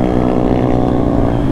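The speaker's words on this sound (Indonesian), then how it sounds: "Ini ngomong-ngomong knalpot saya berisik sekali" Loud, rumbling exhaust of a Kawasaki Z900 motorcycle on a ride, a close, steady low engine drone with dense harmonics filling the whole moment without any voices.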